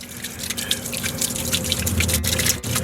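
Water runs and sputters out of a loosened nipple test cock on a commercial sprinkler system being winterized, a loud close continuous spray with small bursts and no voices.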